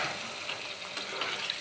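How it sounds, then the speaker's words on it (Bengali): Water poured onto frying spices in a hot pan makes a dense, steady sizzling hiss that holds through the short moment. "এবার আমি জল দিয়ে দিলাম।"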